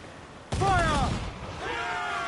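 Ship cannons firing in the Assassin's Creed Black Flag video game, one sudden loud booming blast followed by rumbling fire and shouting voices, continuing with a lower sustained battle din.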